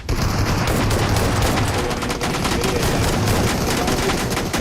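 Gunfire and grenade blasts in a PUBG Mobile tournament match, a loud, continuous wall of rapid automatic shots and explosions that runs without pause and masks any talk.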